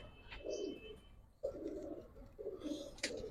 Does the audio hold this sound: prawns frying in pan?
no